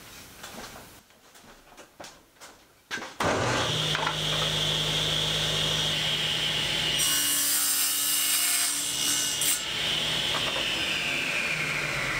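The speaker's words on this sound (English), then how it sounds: "I'll cross cut these at the table saw and then glue them on" Table saw cross cutting wooden trim boards for a folding outfeed table, starting after a few short knocks and then running as a loud, steady whine with the blade biting through wood for about nine seconds.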